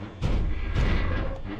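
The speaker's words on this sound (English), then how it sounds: "Do we still have the same sound design where he bangs on the door?" Heavy, muffled thuds of an animatronic fox banging on a door in a horror video game, a few deep booming impacts close together with no talk over them.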